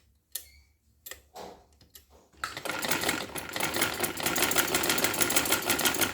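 A few light clicks and taps give way to a sewing machine running steadily, double-stitching a neckline on a garment with a fast, even mechanical chatter that continues to the end.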